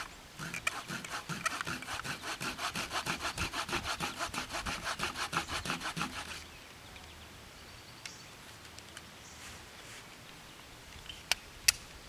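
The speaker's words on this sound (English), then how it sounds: "With it being this wet, it's really clogging up my saw." Hand saw ripping along the grain of wet wood, steady back-and-forth strokes for about six seconds, then stopping into quiet handling noises with a few sharp knocks.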